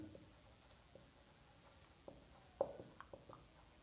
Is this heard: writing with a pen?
yes